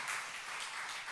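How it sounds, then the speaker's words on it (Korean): Church congregation applauding in a steady, dense wash of clapping that fills the moment without a break. "여러분 한번 박수로 격려해 주시면 감사하겠어요."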